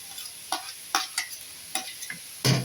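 Shrimp stirred into fried rice in a hot pan, giving a steady sizzle with sharp scraping stir strokes every half second or so and a louder burst at the end, close and clear.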